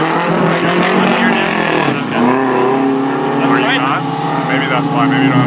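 Race car circling the Hampton Downs circuit in New Zealand heard from inside, the engine droning loudly with pitch rising and falling through gear changes while people talk over it.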